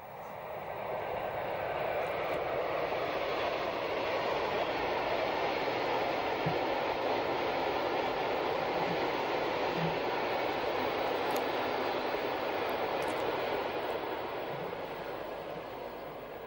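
A DB class 103 electric locomotive hauling an Interregio train pulls into Aachen Hauptbahnhof, a steady broadband rolling rumble and rail hiss held at an even level throughout, with a few faint high squeals from the wheels.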